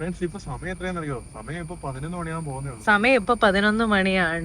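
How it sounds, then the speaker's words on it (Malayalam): Cicadas drone in a dense forest at Vagamon, a steady high-pitched whine that runs unbroken beneath a person talking throughout. "ചീവീടിന്റെ സൗണ്ട്."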